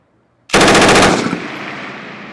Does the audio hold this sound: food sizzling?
no